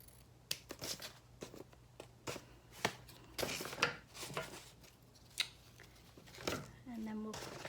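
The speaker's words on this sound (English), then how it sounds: "I'm just gonna cut this one on a diagonal." Scissors snip ribbon on a diagonal while making a handmade gift bow, a series of sharp, close cuts spaced irregularly, with faint talk underneath.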